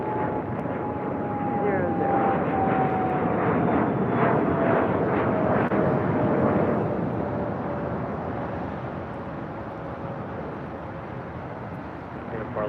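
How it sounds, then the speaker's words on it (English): A Singapore Airlines Boeing 777-300ER departing LAX gives a sustained, fairly loud jet roar with a slowly falling whine that swells and then eases as it passes. "Next departure here on the south side is Singapore Airlines Flight 11, heading to Tokyo Narita on a 777-300ER."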